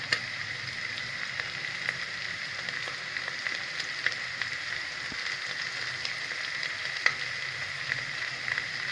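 Mint and coriander leaves fry in a pan for mushroom biryani, giving a steady, faint sizzle with small crackles throughout and no voices.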